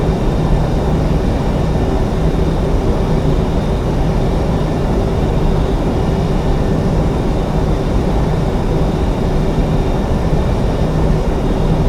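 A simulated airliner taxis at an airport, a steady loud droning engine hum with a constant low rumble and a faint high whine, holding unchanged throughout and with no voices.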